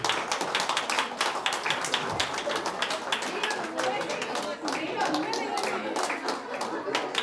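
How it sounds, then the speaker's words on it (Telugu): An audience applauds at a shashtipurti (60th birthday) ceremony after the exchange of garlands, a steady wash of dense clapping with sharp hand slaps running throughout, fairly close and continuous with crowd murmur underneath. "Claps claps claps."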